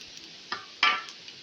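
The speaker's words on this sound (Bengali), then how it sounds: "পাঁচ ফোড়ন দিলাম একটু শুকনো লবণটা একটু কালচে হয়ে এলে তারপরে আমি পাঁচফোড়নটা দিয়ে দিলাম" Panch phoron five-spice seeds hitting hot oil with a bay leaf in a pan, giving two short crackling sizzle bursts, the second louder and closer, over a faint background hiss.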